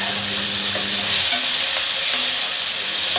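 Tomatoes and curry leaves sizzle and spit in hot tempering oil for a capsicum gravy curry, a steady loud frying hiss with a few soft stirring knocks, close and continuous with no voices.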